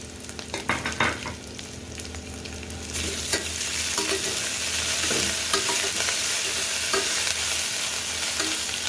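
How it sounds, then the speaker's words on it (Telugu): Ginger garlic paste frying with softened onions in a pan for egg biryani, a few spoon scrapes and taps, then a loud, steady sizzle with stirring throughout, no speech. "ఉల్లిపాయలు మగ్గిపోయినాయి కదా, దీంట్లో 1 స్పూన్ అల్లం వెల్లుల్లి పేస్ట్"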